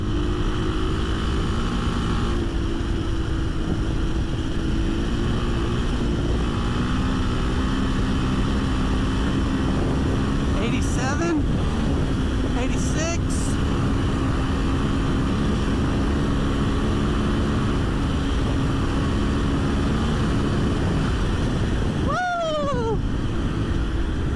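An Athena Get SX1 motorcycle pulls hard in sixth gear, its engine note a steady loud drone with slowly shifting pitch, heard close from the rider's position under heavy wind rush, with brief clicks and a rising whine near the end.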